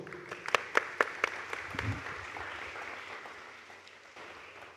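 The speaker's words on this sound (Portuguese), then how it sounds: "vamos aplaudir ao Senhor" Church congregation applauding during a Sunday morning worship service: a few sharp claps up front, then steady moderate clapping from a crowd that gradually tapers off.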